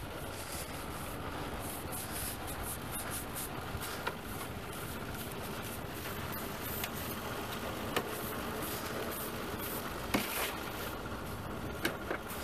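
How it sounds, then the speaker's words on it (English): Engine degreaser sprayed onto a greasy car engine and undercarriage grime, a steady loud hiss running throughout with a few sharper bursts near the end. "Wear eye protection when you spray this stuff."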